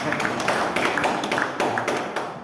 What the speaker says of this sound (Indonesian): Tepuk tangan untuk kebahagiaan kita semua.